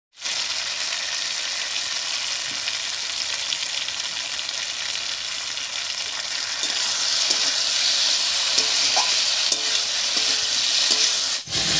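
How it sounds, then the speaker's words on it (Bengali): Spices cooked down with salt and turmeric in a pan, alongside boiled raw papaya, potato and tomato, hiss in a steady, close sizzle of frying with occasional scrapes of stirring throughout. "এবারে লবণ আর হলুদ দিয়ে ভালো করে কষিয়ে নেব।"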